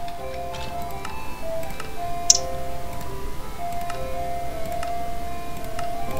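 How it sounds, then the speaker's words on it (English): A faint ice cream truck jingle plays in the distance in Minecraft, a thin repeating melody over background noise with a few light ticks and taps. "Oh my god, I hear an ice cream truck."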